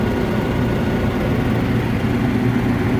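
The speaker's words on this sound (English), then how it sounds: "No funny sounds coming out of the exhaust fan." A belt-driven exhaust fan runs steadily after repair of a tripped breaker, giving a constant, even broadband whoosh and low hum with no other sounds.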